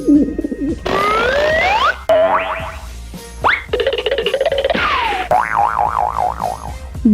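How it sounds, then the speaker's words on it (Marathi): A pigeon's low, soft cooing opens the sequence, followed by a string of other bright, varied bird calls and whistles in quick succession, all close and clear with no talking. "कबूतर"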